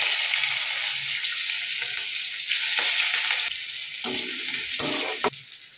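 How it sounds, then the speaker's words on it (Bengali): Crushed ginger and green chili frying in hot oil, a loud steady sizzle that stays dense throughout, with brief stirring scrapes breaking through toward the end. "ওই তেলের মধ্যে আদা কাঁচা লঙ্কাটা থেঁতে নিয়েছি"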